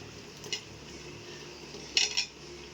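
Cut mushrooms going into gravy in a pot for mushroom biryani: two light metallic clinks of a utensil against the pot, close by, over quiet kitchen background with no voices.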